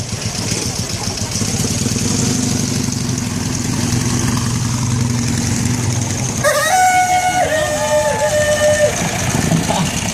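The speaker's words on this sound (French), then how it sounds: "admirez l'échappement là de la Darmon jaune qui passe avec l'échappement en queue de poisson" A yellow Darmon car with a fishtail exhaust and a motorcycle twin engine passes amid steady parade engine rumble at Le Mans, with crowd noise and a horn-like tone near the end, while a commentator talks throughout.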